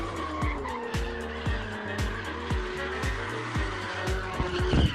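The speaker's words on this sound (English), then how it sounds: "the car behind him was drifting and it drifted straight into him" A car drifts and skids behind a TV sports reporter. Repeated tire squeals come in a steady rhythm over a continuous engine drone, close and fairly prominent.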